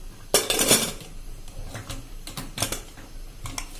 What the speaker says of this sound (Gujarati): પછી આપણે કુકરનું ઢાંકણ બંધ કરી દેશું